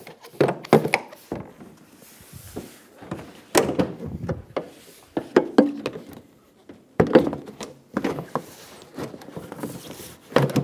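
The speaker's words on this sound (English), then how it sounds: "Start on one corner and feed the bumper into the bracket." Rear bumper of a 2013-2017 Honda Accord being fed into its mounting bracket, producing a string of dull plastic thunks, knocks and clacks in irregular clusters, close and moderately loud, with no speech.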